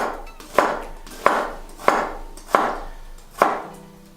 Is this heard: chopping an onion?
yes